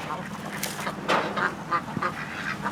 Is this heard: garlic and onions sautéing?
no